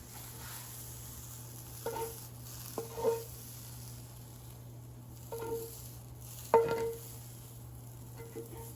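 Cabbage and carrots sautéing in a frying pan give a low steady sizzle, broken by a few louder scraping stirs and clatters.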